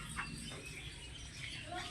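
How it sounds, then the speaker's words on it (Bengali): Birds arriving to eat scattered food in the morning chirp in short, faint tweets over a soft outdoor background, several calls spread across the moment. "পাখিগুলো খেতে এসছে।"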